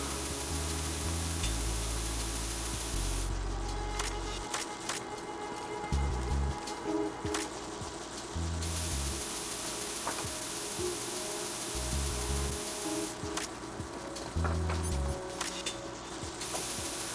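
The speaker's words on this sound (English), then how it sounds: "The bugs go away when you spray them with cold." Coolant spray hissing at bugs in Metal Gear Solid 2, a steady rain-like spray rising and stopping in several bursts over a low game background hum, with no talk.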